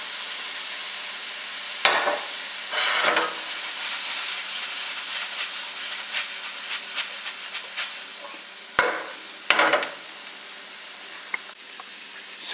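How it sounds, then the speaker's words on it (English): Shrimp and onions simmer in olive oil with a continuous hiss and sizzle, broken by a few sharp scrapes of a spoon stirring the pan. Nobody speaks. "I have added the shrimp to this, and it is just simmering right now"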